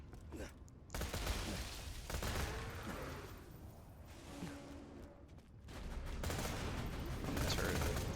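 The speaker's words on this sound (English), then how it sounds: "Don't want to shoot people too close with this gun." Rapid bursts of gunfire from a gun in the video game Borderlands 2, loud clustered shots with short gaps, mixed with game sound effects.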